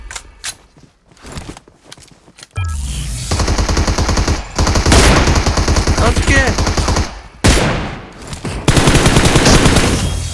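PUBG Mobile gunfire, including an M24 sniper rifle: a few sharp isolated shots, then loud sustained rapid automatic bursts that briefly stop and resume, close and dominant.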